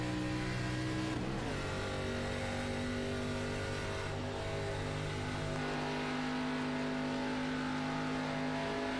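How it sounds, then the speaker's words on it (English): ARCA Series race cars at Atlanta Motor Speedway pulling away on the green flag with tires spinning, a steady loud engine drone that rises in pitch as the cars accelerate, with no voices over it. "Spinning the tires a little bit on acceleration."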